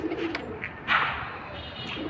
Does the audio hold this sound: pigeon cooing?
yes